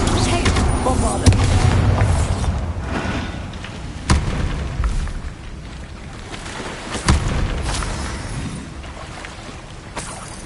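A Bombarda spell explosion in Hogwarts Legacy lands as a series of heavy booms and bursts over rumbling game audio, loud and close, with a voice speaking briefly.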